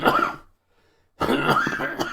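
A man coughs while giving a talk: two loud, close coughing bursts separated by a brief silent pause.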